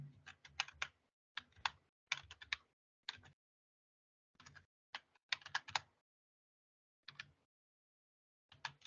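Password being typed on a computer keyboard: irregular bursts of close, crisp key clicks separated by short pauses, with no talk.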